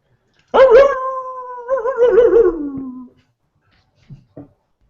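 A human voice howls in a long wavering tone that slides downward, imitating a dog, followed by two faint short sounds after a pause.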